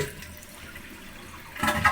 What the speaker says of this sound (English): a complete flush cycle